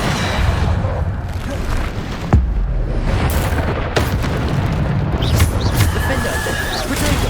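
Depulso force spell cast in Hogwarts Legacy on PS5, heard as heavy booming blasts and impacts amid continuous loud combat noise, with sharp hits near 2.3 and 4 seconds.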